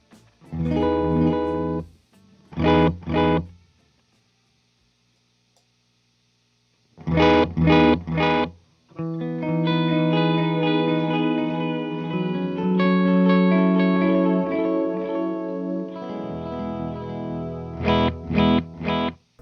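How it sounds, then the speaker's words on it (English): Electric guitar through a Strymon Deco pedal set to tape echo with bounce blend, short distorted chord stabs each followed by a double repeat, then a sustained, warbling chorused phrase before more stabs, loud and alone. "the bounce blend type is what gives you that double repeat with your tape echo"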